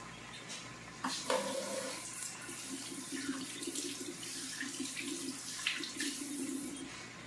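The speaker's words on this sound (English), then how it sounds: "Wash my hands again." Tap water runs steadily into a sink during handwashing, a continuous broadband wash with small splashy bumps, fairly close and alone.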